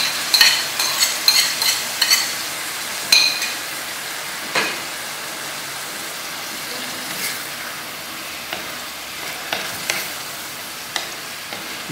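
Minced meat keema with tomatoes frying and being stirred in a pan, a continuous sizzle broken by repeated sharp scrapes and clinks of the spoon, close and fairly loud with no talking.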